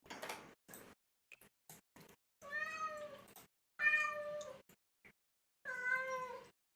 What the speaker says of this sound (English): It's my cat. He's complaining